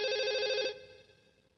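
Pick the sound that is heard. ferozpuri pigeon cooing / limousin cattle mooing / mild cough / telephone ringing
telephone ringing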